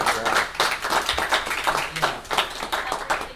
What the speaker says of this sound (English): Let's do a big round of applause